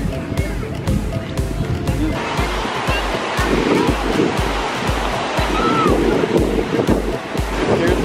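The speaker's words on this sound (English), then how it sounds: "We're at the beach." Ocean waves breaking on a sandy beach, a steady broadband wash of surf with gusts of wind buffeting the microphone throughout, and faint voices mixed in.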